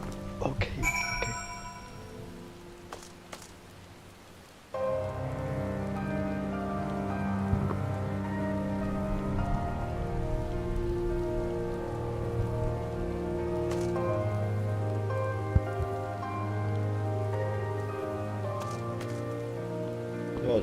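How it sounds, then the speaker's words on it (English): Rain falling in the video game Final Fantasy XIV, a steady wash of drops over layered game music and ambience, starting thinner before building into a fuller, constant patter at moderate loudness. "Yo, it's raining."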